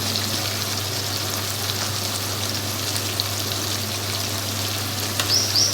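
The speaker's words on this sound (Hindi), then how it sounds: "भुनाई करनी है चिकन की" Chicken sizzles and fries with ground coriander, turmeric and garam masala for kaddu gosht, a steady dense crackle like rain on a hot pan that stays loud and close throughout, with no talking.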